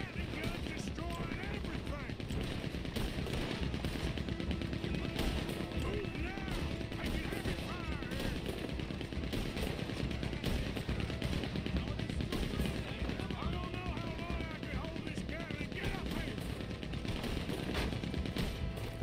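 Gatling gun fire in Red Dead Redemption 2, a dense, continuous stream of rapid gunshots mixed with other battle noise, loud and steady throughout with voices talking over it.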